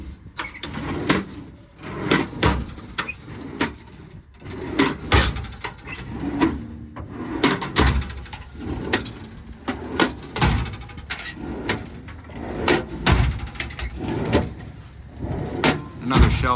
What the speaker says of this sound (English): You have one huge set of granite sliding doors.